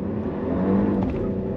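A Mercedes S560e EQ Power plug-in hybrid, rear-wheel drive, pulls away from a standstill under hard throttle, a muted steady powertrain hum and tire rumble building faintly, with no voices.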